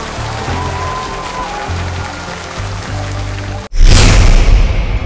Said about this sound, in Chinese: 掌声给两位为科学而争辩的人